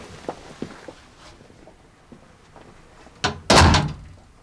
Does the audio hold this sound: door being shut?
yes